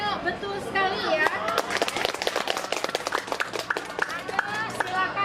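A classroom of young students claps for a classmate, a dense patter of many small hands that keeps going for several seconds, mixed with children's chatter and a teacher's voice.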